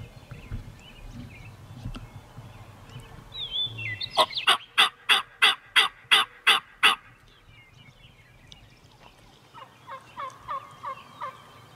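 Wild turkeys in Montana: a run of about eight loud, evenly spaced gobbles rings out near the middle, with fainter hens calling in the distance before and a softer series of clucks afterward.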